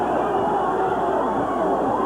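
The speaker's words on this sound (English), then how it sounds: "The fans are cheering." A wrestling crowd cheers in a steel-cage match arena, a steady dense roar of many voices that holds without a break for the whole moment.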